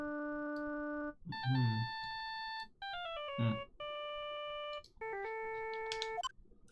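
Phone ringtone from the Phoenix Wright Ace Attorney Trilogy video game, a bright electronic melody of clear, steady tones in several short phrases with brief gaps between them. Two short bursts of noise break in between the phrases.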